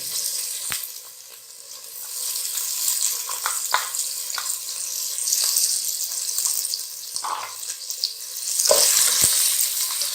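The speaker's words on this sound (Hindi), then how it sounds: "जो ऑलरेडी बॉयल है, लेकिन हमने इसको सिर्फ फ्राई करना है" Boiled chicken pieces frying in a pan, a steady close sizzle with light clinks and stirring scrapes throughout, the hiss swelling louder toward the end.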